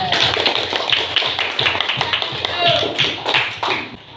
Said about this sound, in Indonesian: Terima kasih untuk kelompok 3. Kita berikan aplaus.